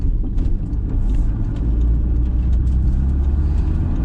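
A Toyota Supra car drives at night with a steady, loud low engine rumble and road noise that runs continuously throughout.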